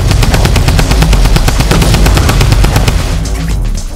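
Rapid automatic gunfire from a video game shooting at a shopping cart, a loud continuous burst of closely spaced shots that keeps going for several seconds with a dense booming low end.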